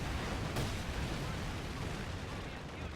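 Incendiary artillery barrage in the WWII strategy game Company of Heroes 2, heard as a dense, steady rumble of distant shelling and crackling fire with one sharper burst near the start, continuous for a few seconds.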